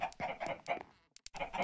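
Chickens in TerraFirmaCraft, a Minecraft mod, give several quick clucks in a bouncy rhythm, near and clear, with a brief pause partway through before the clucking resumes.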